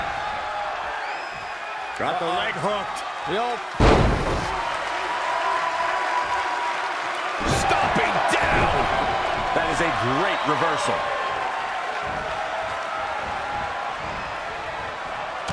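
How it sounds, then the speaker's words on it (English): A raucous crowd at a WWE NXT women's wrestling match roars and cheers steadily throughout, with a brief slam-like burst near the four-second mark, beneath continuous ringside commentary. "What a raucous crowd here tonight."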